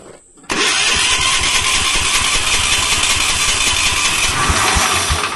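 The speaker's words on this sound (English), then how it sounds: "So the starting sequence is governor on, or the decompression lever on, probably a little bit of throttle." A remote control lawn mower's small engine catches after a quiet moment and runs loud and steady, a close, rough mid-pitched idle that holds to the end with no talking.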